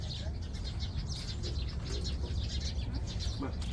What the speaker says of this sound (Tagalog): Ang mga ibon